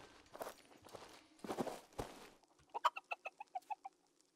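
A chicken clucks in the medieval video game Bandit Brawler, a quick series of about eight sharp clucks following several soft scuffing footstep sounds, with no talk over it.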